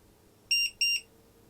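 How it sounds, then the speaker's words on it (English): A Fumeclear FC-100A fume extractor gives two short, clear electronic beeps in quick succession as it powers down, heard close against quiet background hum. "you can see it does a double beep before it actually fully powers down"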